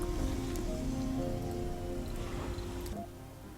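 Rain falling across the terrain of a Mars colony in the Surviving Mars video game, a steady dense patter with a constant wash of noise and tonal game ambience underneath, continuous throughout.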